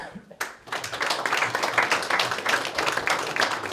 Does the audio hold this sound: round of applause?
yes